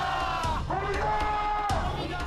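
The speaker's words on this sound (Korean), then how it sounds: "그동안 촛불을 들고 광장을 지켰던 많은 시민들은 환호했습니다." Crowd of citizens celebrating in a public square as the impeachment of the Korean president is announced, a dense roar of cheering and shouting with a couple of sharp bursts, speech mixed in.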